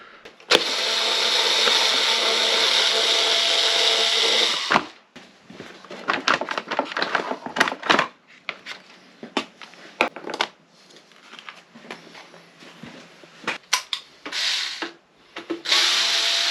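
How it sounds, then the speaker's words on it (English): A power drill whirs steadily for several seconds drilling a hole in a KTM 1290 Super Adventure motorcycle, then stops and gives way to scraping, rubbing and handling noises before a short whir returns. "we need to drill a hole and add the auxiliary switch"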